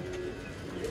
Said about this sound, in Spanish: Las palomas son una de las aves que requieren menos requisitos para reproducirse.